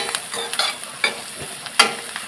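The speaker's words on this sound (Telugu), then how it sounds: "ఉల్లిగడ్డలు ఎర్రగానేయండి" Onions frying in hot oil until reddish-brown, a close, even sizzle with intermittent scraping stirs and one sharper clatter near the end.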